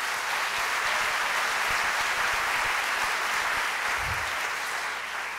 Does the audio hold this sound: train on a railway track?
no